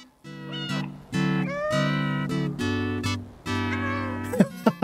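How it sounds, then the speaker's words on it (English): A cat meows in the video game Stray over sustained tonal game music, with several drawn-out calls in a row at close range. "Let me meow to him to stop."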